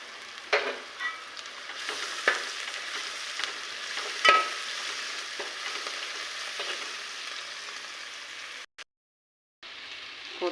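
Chicken fries in a pan with ginger, coriander and curry leaves, giving a soft steady sizzle with scattered stirring clicks and scrapes, then a brief gap of silence near the end.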